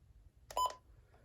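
Button beeps from a Midland WR120B weather radio: a single short electronic tone burst, close and fairly loud, set against a quiet low hum.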